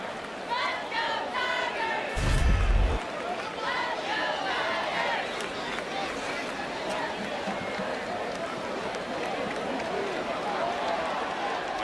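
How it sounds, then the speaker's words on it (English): Football stadium crowd screaming during a Louisville versus Clemson college game, a loud, continuous roar of massed voices that swells briefly with a sharp burst and then holds steady throughout. "the crowd is screaming because they thought they saw a replay that indicated recovery by their team"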